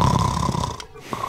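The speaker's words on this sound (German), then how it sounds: "Da schnarcht doch einer." A man snoring in the Die drei ??? video game, a loud, rough, close snore that trails off into a short pause before another breath begins.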